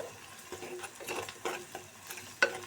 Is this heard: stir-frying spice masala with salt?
yes